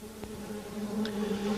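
Brazilian stingless uruçu bees at their colony give off a steady, low buzzing hum that swells slightly over the moment, with a few faint higher insect whines and no talking.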